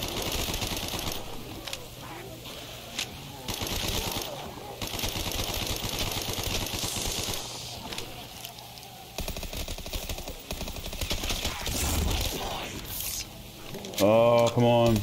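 Rapid gunfire in the Call of Duty zombies map Cage Reimagined, steady and dense for most of the stretch as a large enemy soaks up rounds, with a voice talking over the shooting.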